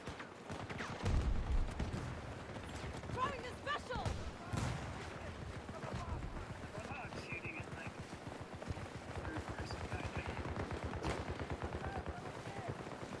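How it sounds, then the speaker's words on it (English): Gunfire in the shooter game Battlefield 2042 crackles steadily under and between voices, with dense bursts and scattered shots throughout, at moderate loudness and partly distant. "Is he shooting at us?"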